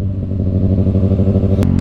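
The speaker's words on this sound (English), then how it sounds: "The ZX6R with the M4 exhaust, man, can't go wrong." A 2021 Kawasaki Ninja ZX6R KRT Edition with an M4 exhaust idles and revs at night, a loud, close, throbbing engine with a steady low rumble and a brief sharp burst near the end.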